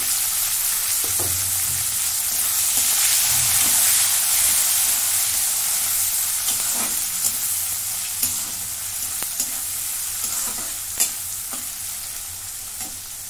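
Onions browned in a pan for biryani, with tomatoes then added, fry in a steady sizzle while a spoon stirs and scrapes at intervals. No voices are heard.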